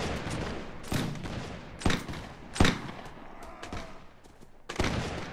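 Ragged volleys of musket gunshots from Napoleonic-era riflemen in Mount&Blade, several sharp cracks spaced a second or so apart over a dense, rumbling battle background.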